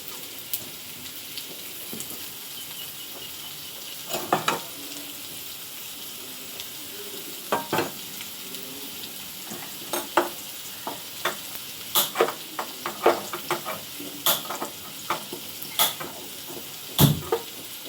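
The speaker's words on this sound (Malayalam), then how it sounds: "അപ്പോൾ കുറച്ച് കോക്കനട്ട് ഓയിൽ ചെമ്മീൻ വറുക്കാനായിട്ട് വെക്കാം." Prawns frying in hot coconut oil, a steady hiss with scattered sharp pops and clicks that grow more frequent toward the end.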